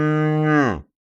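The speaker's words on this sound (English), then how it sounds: "calf" A single calf moo, a loud, sustained bellow lasting under a second that drops slightly in pitch before cutting off into silence.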